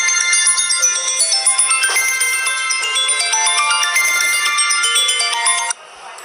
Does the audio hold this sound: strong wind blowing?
no